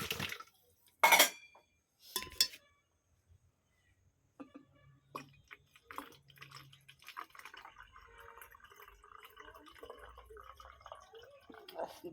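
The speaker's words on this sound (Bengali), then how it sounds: "খাওয়া বোতলটা জল ভরে রাখছি।" A drinking bottle being filled with water at home: a few sharp clinks and drips at first, then a steady, soft splashing trickle that runs on until the end.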